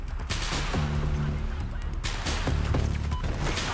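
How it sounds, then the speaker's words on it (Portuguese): Battlefield 4 gunfire crackles in rapid bursts over a steady background roar, with a few louder shots standing out, including fire from a circling boat. "tem gente no barco dando volta atirando aqui"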